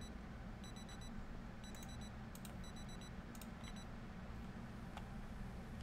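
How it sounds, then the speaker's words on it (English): In the Project Zomboid video game, a digital alarm clock beeps in short repeated bursts of high electronic tones, quiet and tinny over a steady background hiss, with no speech. "There's our alarm to get up."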